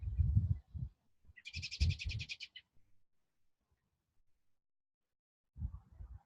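A bird outdoors near a trailer gives a short, bright trilling call between low rumbling noises, followed by quiet and then more rumbling.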